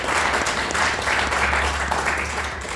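A church congregation bursts into dense, loud applause, a steady roar of many hands clapping close by, with a low hum underneath throughout.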